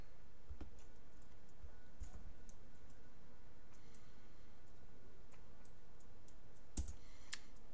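Computer mouse clicks at a desk, a few sparse, faint, sharp ticks scattered over quiet room tone.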